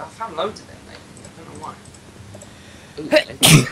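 A loud, sharp sneeze bursts out near the end during a Minecraft gaming session, with a second burst just before it, after casual talk.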